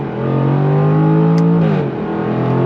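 A 2023 Jaguar F-Type R engine launching hard on launch control, heard from inside as a loud, rising mechanical roar that climbs in pitch and drops sharply at a gear change, then pulls on strongly, with no talking.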